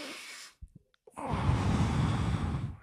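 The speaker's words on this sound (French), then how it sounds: "Une respiration." A single audible breath, a sigh-like exhale near the mic, sits between a soft breathy stretch at the start and a longer airy rush after a short pause.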